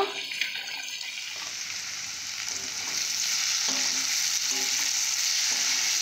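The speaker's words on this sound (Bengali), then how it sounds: "ভালো করে ভেজে নিয়েছি, আপনারা দেখুন পেঁয়াজগুলো খুব সুন্দরভাবে কালার এসছে" Onions frying and being stirred in a pan for a Bengali Malabar spinach dish, a steady hiss of sizzling oil that grows fuller partway through, with light scrapes and clinks of the spoon against the pan.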